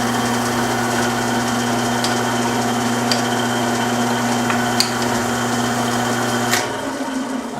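A lathe drilling with a small drill makes a steady whirring hum with a high whine throughout, broken by a few faint clicks, then winds down near the end.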